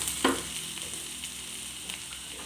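Onions sautéing with curry leaves in a pan give a steady close sizzle with a sharp crackling burst near the start as the leaves hit the oil, then continuing frying hiss with light stirring.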